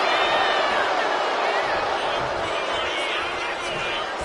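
A wrestling arena crowd roars in a loud, steady wash of cheering and chatter that fills the whole stretch without a break.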